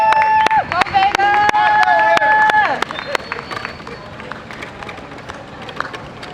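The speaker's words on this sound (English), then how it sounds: "Clap it up, clap it up, clap it up for Vega!" Crowd applause and clapping for a performance poet at a New York poetry festival show, a dense wash of hand claps with a few whoops at first, fading to scattered claps and murmuring in the room.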